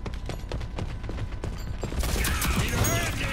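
Shotgun blasts and scattered gunfire ring out in a shooter video game, dense and fairly loud, growing heavier toward the end.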